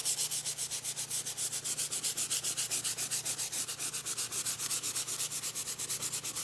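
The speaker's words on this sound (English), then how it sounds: "we can hand sand that back in, help take off the dark area." A wood floor is hand sanded with 120 grit abrasive, producing a fast, regular rhythm of rasping back-and-forth strokes, close and steady, with no talking.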